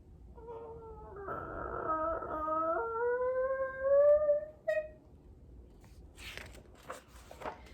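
A slow, rising creak with a tonal, whining quality stretches over several seconds, ending in a short squeak and faint rustling.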